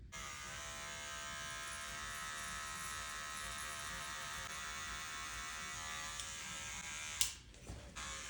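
An electric hair clipper buzzes steadily and faintly at close range while shaving facial hair down around a mustache during a barber's self-cut, ending with a few small clicks and knocks.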